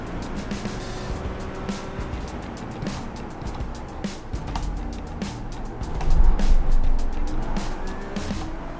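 Ferrari 296 Challenge race car in iRacing on a flying lap, its engine droning continuously up close with shifting revs and brief tire squeal, growing louder near the end.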